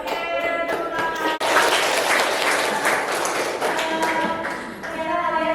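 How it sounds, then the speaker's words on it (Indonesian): A classroom of students claps hands together in a dense, sustained burst of applause that fills the room, with a brief break partway through. "Oke, tepuk tangan."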